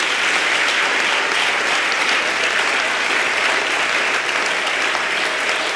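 A church audience bursts into sustained, loud applause with cheering, a dense, even wash of clapping filling the room without pause.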